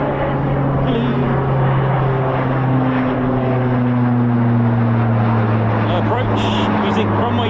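At RAF Waddington a propeller aircraft makes a low approach to runway 02, and its loud, steady engine drone fills the whole stretch while people talk beneath it.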